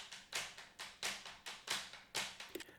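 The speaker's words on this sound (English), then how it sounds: "just played the sticks on the side of his kit" Drumsticks tapped on the side of a drum kit, captured by a room mic and doubled, giving a steady rhythmic pattern of sharp, bright clicks with a little room ring, alone and fairly close.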